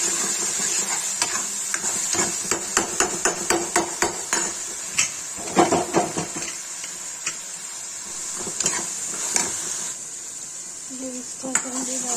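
Ground garlic, ginger, green chili and onion paste frying in a pan, a steady sizzle under repeated sharp taps of a spoon stirring against the pan, with no voices.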